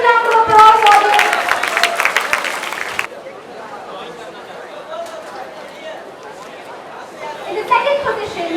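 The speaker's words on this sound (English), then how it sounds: "Please give her a huge round of applause, audience" Audience applauding at a youth festival prize ceremony, a dense burst of clapping for about three seconds that then cuts away to quieter room chatter and voices.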